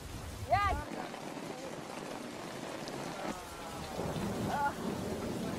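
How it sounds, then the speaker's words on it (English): Torrential rain pours in a heavy, steady roar, with a voice-like tonal cry rising briefly near the start and again near the end over the constant downpour. "it rains in torrents for a month"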